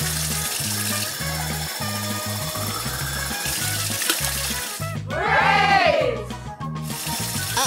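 Water is poured to fill drinking glasses in a short, gushing burst of about a second, heard partway through over steady background music.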